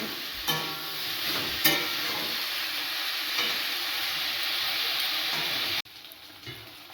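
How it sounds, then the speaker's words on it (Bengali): A Bengali vegetable chochchori sizzles loudly in a pan, with a few spatula strokes scraping through the steady frying hiss before the sound abruptly drops away to a quieter background near the end. "রান্নাটা ভালো করে করি, দেখা যাক চচ্চড়িটা কেমন হয়"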